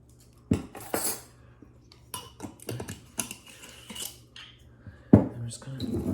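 Incense ingredients are ground in a mortar and pestle, with sharp irregular knocks and scraping taps spread across the span, close by and without speech.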